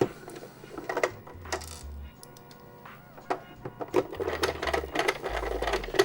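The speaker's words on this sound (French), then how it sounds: "Et là, je peux visser celle-là à fond, sans être stressé de mon mauvais placement." A screw is driven into a Nintendo NES console's plastic shell by hand, giving brief clicky, scraping turns in short bursts with pauses between them, close up and fairly quiet.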